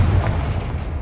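A fire spell explodes in Hogwarts Legacy as one heavy, booming blast with a deep low rumble that fades quickly.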